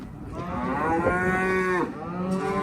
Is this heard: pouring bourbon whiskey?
no